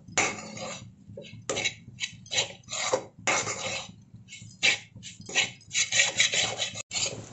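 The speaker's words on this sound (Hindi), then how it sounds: "बेसन को भी अच्छे से मिक्स कर देंगे इसमें" Roasted gram flour (besan) is stirred into soft onion sabzi in a pan, a spoon scraping and clinking against the metal in quick uneven bursts with short pauses, close and fairly loud, no talking.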